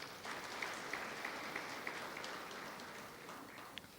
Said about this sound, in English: Madam Kwenaite, let's give her a round of applause.